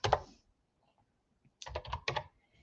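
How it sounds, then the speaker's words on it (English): A short run of quiet keystrokes on a computer keyboard as a security code is entered, with one click and then a quick cluster of taps after a pause. "So you type in that code"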